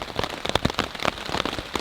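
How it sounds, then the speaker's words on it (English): Rain pelts a tarp over a hammock camp in the woods, a dense, close patter of drops landing steadily with no voices. "Good thing about the rain is that I no longer have to keep going to the stream to get water"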